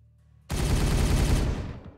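Sustained burst of video game gunfire in Warhammer 40K Regicide, a dense rapid rattle of shots starting abruptly after a quiet moment, loud and continuous before tapering off.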